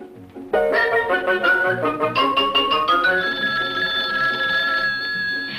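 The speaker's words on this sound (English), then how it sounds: "a kitchen phone at hand when friends call up to chat a bit" A kitchen telephone bell rings out loud and close, a bright repeated trilling burst that settles into a sustained ringing tone for several seconds, with no voices.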